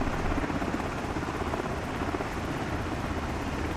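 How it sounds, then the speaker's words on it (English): Steady rotor thump and turbine roar of an MH-60 Tango helicopter in U.S. Coast Guard livery in a flight simulator game, loud and continuous throughout with no talk. "we're going to be back in the Militech and Blackbird simulation MH-60 helicopter"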